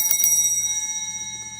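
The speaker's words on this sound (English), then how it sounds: "The bells clear the energy just so we can breathe, start fresh." Bells are rung to clear the energy: two quick bright strikes at the start, then a long shimmering ring that slowly fades, loud and close with no voices.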